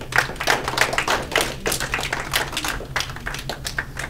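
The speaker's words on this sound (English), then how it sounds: "Give yourselves a round of applause." An audience at a youth day gathering applauds: many hands clapping in a dense, lively patter that holds steady and close throughout.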